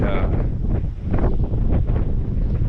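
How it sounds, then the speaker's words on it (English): Wind gusts buffet an outdoor microphone in a rainy spot, a loud rumbling roar that swells and dips throughout. "I'm in an area here where I got to get out of the wind."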